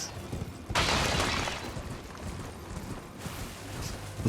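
Horse hooves gallop on an indoor floor in Elden Ring, a dense run of impacts that swells loudly early on, settles into a steadier patter and then picks up again near the end.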